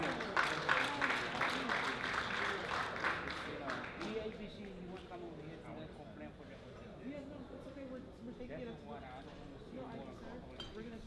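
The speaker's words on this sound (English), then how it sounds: "Please, let's give Bankom a round of applause." Applause from a gala audience at an anniversary glamour night, a dense steady patter of clapping that is loudest at the start and then settles into a softer, continuous clatter with a murmur of crowd voices mixed in.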